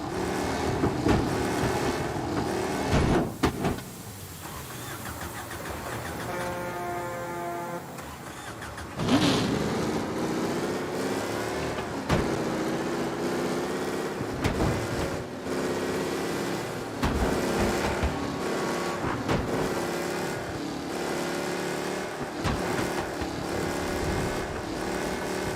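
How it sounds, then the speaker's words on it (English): Car engines rev, accelerate and shift repeatedly in Mafia Definitive Edition, loud and close, with a race car out on night roads, punctuated by brief bangs and a quieter stretch of musical tones. "Be alert for a race car out on the roads tonight."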